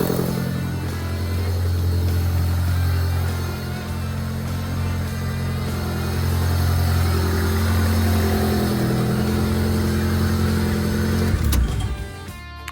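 A project car's engine idles steadily and loudly, running up close with a constant low rumble, then cuts off near the end.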